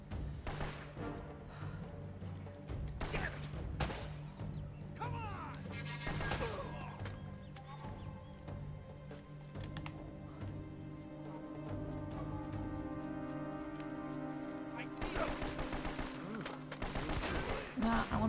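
Shotgun blasts and other gunfire from the Uncharted video game, a dense run of sharp bursts over steady game music, heaviest near the start and again in a loud flurry toward the end.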